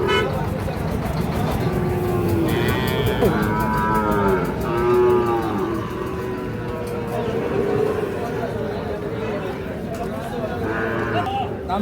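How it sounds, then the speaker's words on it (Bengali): Sahiwal bull calves around five to six months old moo repeatedly at a busy cattle market, several drawn-out calls rising over a constant crowd murmur and nearby voices. "শাহিওয়াল ষাঁড় বাচ্চা"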